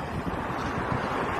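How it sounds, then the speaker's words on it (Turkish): Strong wind roars steadily during a forest fire in the Ceyhan–Yumurtalık area of Adana near the Hatay border, a loud continuous broadband rush buffeting the microphone with no pauses. "Rüzgarlar acayip derecede, bakın."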